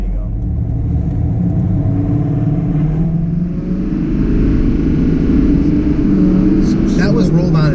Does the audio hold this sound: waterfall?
no